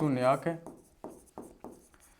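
Chalk or marker tapping and scraping across a board while working a math problem, in a short series of about five distinct strokes after a brief spoken phrase, close and clear.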